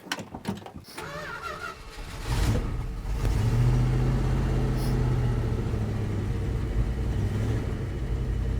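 A 1973 Dodge D100 pickup cranks and catches with a few sharp clanks. The engine then rises into a loud, steady, close-up running rumble that holds to the end.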